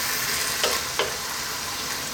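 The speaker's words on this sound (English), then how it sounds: "we're going to drop in all of those ripe tomatoes, fresh tomatoes" Fresh ripe tomatoes drop into a sizzling pan with spinach, a loud close steady fry hiss marked by two quick splashy bursts as pieces land.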